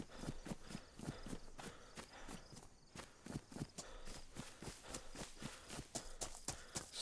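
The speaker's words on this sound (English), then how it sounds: "This is when you think you hear footsteps." Footsteps in the DayZ video game, a rapid regular series of thudding steps like hooves or running feet, fairly faint and continuous throughout, no talk.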